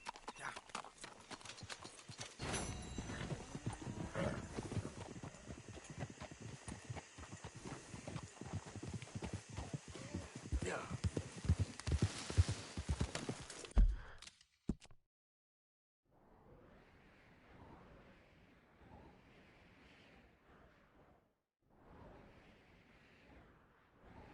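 Horse hooves clip-clopping steadily in Red Dead Redemption 2, a brisk rhythmic trot close by for about fourteen seconds, followed by a short silence and softer, muffled noise in separate bursts.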